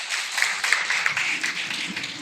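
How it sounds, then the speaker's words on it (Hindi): Audience applause at a school prize distribution for a Seeratun Nabi competition: a brief burst of moderate clapping with a few distinct sharp claps, lasting about two seconds. "जोरदार तालियां"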